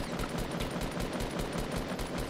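Rapid automatic gunfire from a Fortnite match, a steady fast stream of loud close shots repeating evenly for the whole stretch with no talking over it.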